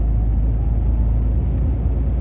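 Steady low rumble of a car driving up a road, a continuous in-cabin drone with no talk, constant and fairly loud throughout.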